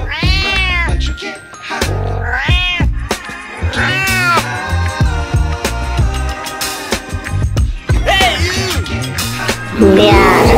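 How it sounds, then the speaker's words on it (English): A cartoon cat meows repeatedly in drawn-out, rising and falling cries for a kids' animal cartoon, loud and close, mixed with other bright effects and music. "Oh no! Cat."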